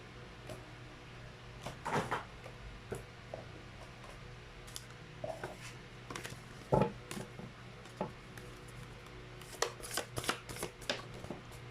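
Tarot cards shuffled by hand in a quiet room, a series of soft riffling and flicking bursts with small clicks, close and fairly faint, with no talk.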